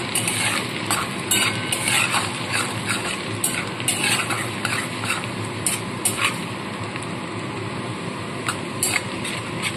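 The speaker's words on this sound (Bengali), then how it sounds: "এবার এই তেলের মধ্যে আমি দিয়ে দিচ্ছি প্রথমে রসুন কুচনো আর আদা কুচনো" Chopped garlic and ginger fry in leftover pakora oil, giving a dense, crackling hiss with repeated sharp clicks of a utensil against the pan.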